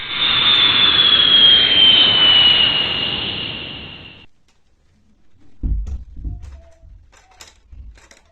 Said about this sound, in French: l'avion qui ramène les 12 autres candidats est en train d'arriver